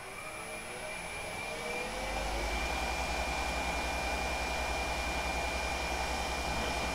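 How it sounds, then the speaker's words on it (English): A lathe spins at high speed while an acrylic pen blank is polished dry, giving a steady whirring roar that builds after a couple of seconds and then holds, close and continuous with no voices. "I'm going to really polish, turn the RPMs up, and go for a dry piece here."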